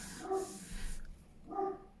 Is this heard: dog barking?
yes